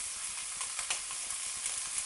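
Vegetables for a chicken stir fry sizzling in a hot pan, pepper and onion among them, a steady close hiss with faint crackles throughout, no voices.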